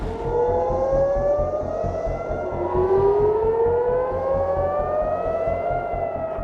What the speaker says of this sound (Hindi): इजराइल का तेल अवीव सायरन की आवाजों से गूंज उठा